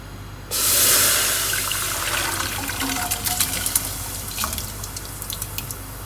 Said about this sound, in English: I'm just gonna dump the rice without the bag, with the water and the rice and everything from the slow cooker right back into the pot on the fire